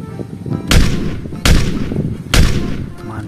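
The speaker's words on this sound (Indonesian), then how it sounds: "ada Glock pistol" A toy Glock pistol fires three sharp bursts about 0.8 seconds apart, each loud and close with a brief crackling tail, over low background noise.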